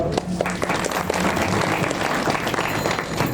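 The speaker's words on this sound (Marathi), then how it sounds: "खऱ्या टाळ्या वाजवा त्या संसृष्टी महाराजांसाठी." An audience at a kirtan breaks into sustained applause, a dense wash of close clapping that continues steadily without pause.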